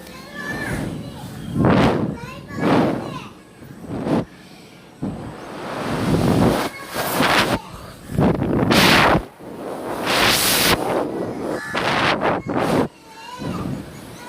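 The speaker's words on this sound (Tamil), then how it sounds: "இங்கே நல்லா காற்றடிக்குது" Strong gusts of wind buffet the microphone in loud, roaring bursts that rise and fall repeatedly, with no clear voices underneath.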